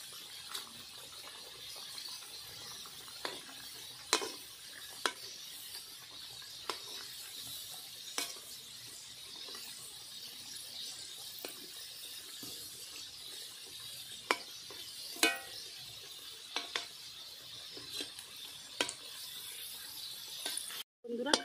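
Khaja sweets fry in oil with a faint, steady hiss broken by scattered sharp pops and clicks, heard at a distance and quiet throughout.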